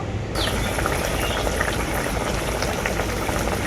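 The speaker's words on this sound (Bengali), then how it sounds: "ভেজে রাখা মাছ দেওয়ার পর ঝোলটা আমি আবারও খুব ভালো করে ফুটিয়ে নেব" Fish curry broth with fried fish at a steady rolling boil, a dense continuous bubbling close by, with no voices.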